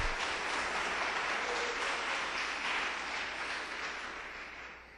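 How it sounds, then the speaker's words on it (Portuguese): A church congregation at a worship service claps together in a dense, even wash of applause that holds steady and then slowly tapers off, heard from some distance and fairly faint. "Dá uma salva de palmas para Jesus."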